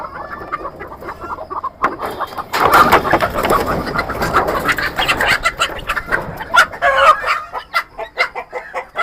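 Country chickens clucking and squawking in agitation as they are caught on a rooftop poultry farm in Manimangalam, loud close bursts of calls layered over one another with flapping and scuffling, no talking.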